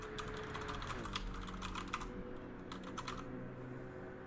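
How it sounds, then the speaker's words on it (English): Rapid clacky keystrokes on a computer keyboard, close and crisp, in irregular bursts that stop briefly near the end before a few more taps. "Forgive the clacking of my keyboard."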